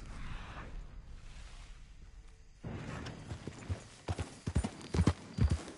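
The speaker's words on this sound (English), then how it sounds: "Ain't you a good horse?" Horse hooves clip-clop irregularly in the video game Red Dead Redemption 2, starting soft and growing louder and denser toward the end, with a creaking saddle-like sound mixed in.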